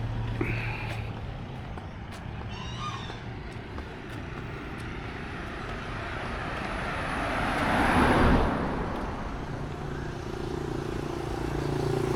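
A motorbike approaches and roars past, its engine swelling to a peak and then fading, over steady street noise near Bang Saray Beach, Thailand.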